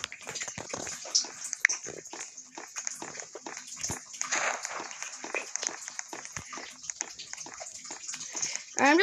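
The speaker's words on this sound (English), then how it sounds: "The water's driving me crazy." Water sloshes and splashes in a Roblox Piggy game, with busy repeated watery bursts and gurgles running the whole time, plus scattered game noises and a louder burst at the end.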